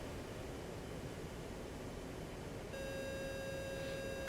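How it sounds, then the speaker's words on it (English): A continuous electronic beep tone in the flight simulator DCS World starts partway through and holds steadily over a quiet, hissing cockpit background noise. "Continuous beep!"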